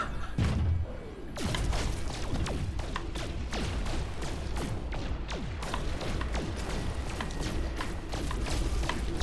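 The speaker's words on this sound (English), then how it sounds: "A sentinel walker." Sentinel walker mech in No Man's Sky stomping: loud heavy thuds and metallic clanks repeat steadily over a dense, constant mechanical rumble, close and continuous throughout.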